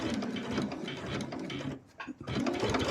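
A sewing machine runs steadily, seaming jelly roll rag quilt blocks together with a continuous close mechanical whir and rattle, easing briefly near the end before resuming.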